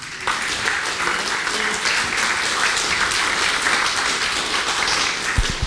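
Audience applause at a convention art workshop, a dense continuous patter of many hands clapping from start to finish, moderately loud with no speech over it.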